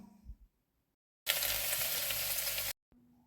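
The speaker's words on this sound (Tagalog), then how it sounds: "Ibutang ang ahos sa kalha ug ibutang ang pula nga cabbage sa kalha." Garlic and red cabbage hit hot oil in a pan, setting off a sudden loud sizzle that holds for about a second and a half before cutting off, with faint clatter before and after.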